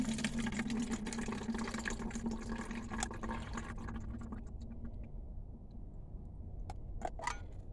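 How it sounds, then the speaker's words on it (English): Dirty water draining from a container in a camper van, a steady splashing gush that trails off into quieter trickles and drips near the end, close by with no speech. "here's my dirty water container. I will drain that"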